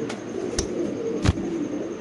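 Racing pigeons from a single farm coo softly and steadily at close range, with a couple of sharp clicks or wing taps and no voices.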